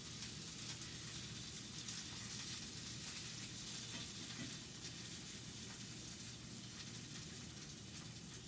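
Brussels sprouts browning in a pan give off a constant, even sizzle, faint and unbroken throughout, with no speech.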